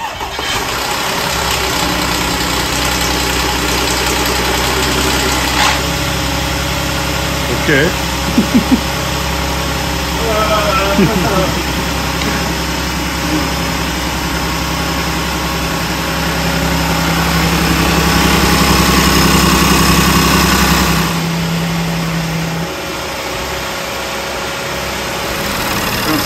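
An Audi Q5 engine cranks and catches after secondary air injection cleaning, then settles into a steady, loud idle that hums on for a long stretch before cutting off; a single word is spoken.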